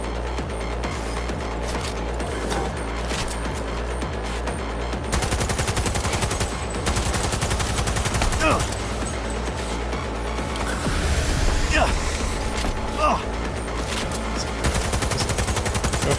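Repeated bursts of gunfire from a gun in Cyberpunk 2077, dense rapid volleys running almost continuously over a steady game soundtrack, loud and close.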